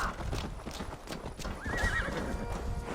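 A horse in Assassin's Creed Valhalla trots with steady clip-clopping hooves, then lets out a clear neigh partway through, close and fairly loud.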